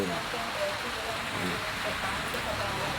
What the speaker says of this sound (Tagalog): It's raining Sunday.